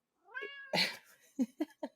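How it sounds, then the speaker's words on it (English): A cat meows close by: one drawn-out, wavering cry, then a louder, sharper call, followed by three short chirping meows in quick succession, with no talk over them. "Hi, my cat River. River is saying hello"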